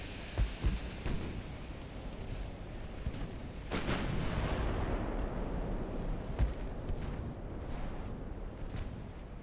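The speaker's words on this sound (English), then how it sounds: "Oh, I just heard a torpedo launch" A distant torpedo launch during a naval battle in Ultimate Admiral: Dreadnoughts comes as a sharp burst near the start and a heavy surge partway through, both sunk in a steady rumble of gunfire and sea noise.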